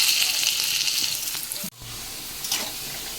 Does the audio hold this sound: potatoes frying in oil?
yes